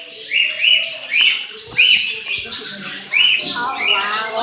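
A huge flock of birds fills the air with dense, overlapping chirps and squawks, loud and close, the calls tumbling over one another continuously without pause.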